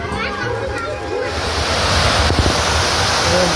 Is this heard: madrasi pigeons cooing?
no